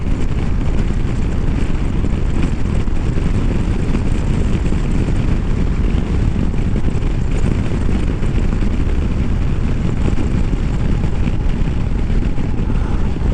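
Harley-Davidson Low Rider ST motorcycle cruising slowly in third gear on a mountain road, a steady, loud engine drone mixed with heavy wind rush across the microphone, continuous with no talk.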